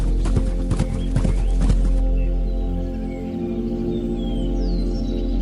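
A horse's hooves clip-clop in a quick, close, uneven rhythm for about two seconds, then drop away, leaving a soft low rumble and a faint distant whinny.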